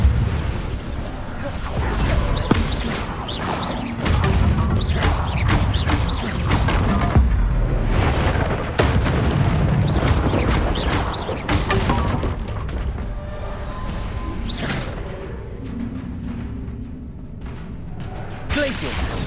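Bombarda explosion spell in Hogwarts Legacy, heavy blasts and crashing debris among repeated sharp impacts. The battle noise is loud and continuous, with a voice speaking over it.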